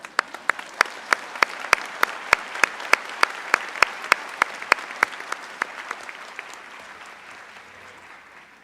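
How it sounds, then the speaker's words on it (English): Applause from a convocation ceremony audience, made of distinct, evenly spaced claps from a small group that ring out clearly at first and then thin and fade into quiet. "we should really applaud how they're expressing their enthusiasm as well"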